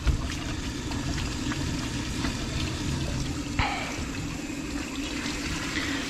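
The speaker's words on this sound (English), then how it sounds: "rinse the dog and repeat that until the dog is clean" Running water pours steadily to rinse a red-coated dog during a bath, a continuous close splashing rush with no talking.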